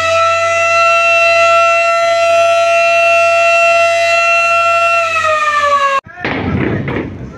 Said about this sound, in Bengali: তো মাস্টার সাহেব হর্ন দিচ্ছে যাত্রীদেরকে তাড়াতাড়ি আসার জন্য।